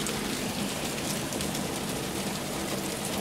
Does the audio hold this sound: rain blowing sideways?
yes